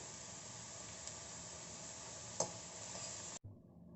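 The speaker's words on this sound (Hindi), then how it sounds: "थोड़ा सा नमक डाल दूंगी जिससे ये प्याज जल्दी से भून जाए।" Finely chopped onions fry in a pan with a little salt, giving a faint, even sizzle throughout with one brief scrape, before the sound drops away near the end.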